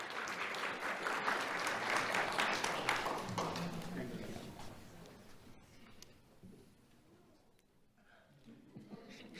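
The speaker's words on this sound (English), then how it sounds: "Let's have a round of applause for Charlotte Angelora." Audience applause at a school awards ceremony for a first-grade winner, loud dense clapping for several seconds that gradually thins and fades, with a few lingering claps and murmurs near the end.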